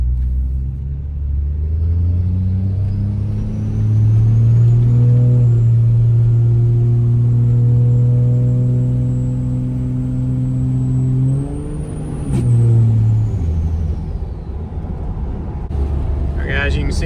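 A 5.9 Cummins diesel truck fitted with an S468 turbo drives along, its deep engine rumble steady and loud, rising with a long turbo whine that peaks and drops before the engine revs again.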